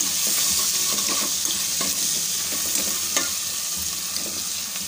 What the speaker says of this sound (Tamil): நெய்யிலே எல்லாமே தாளித்து ரெடியாகட்டும்